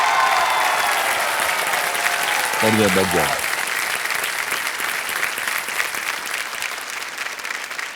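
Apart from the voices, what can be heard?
studio audience applause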